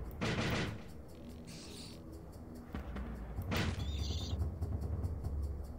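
Gunfire from a modded Turok video game: several bursts of rapid shots in two clusters, loud and close, with game effects between them.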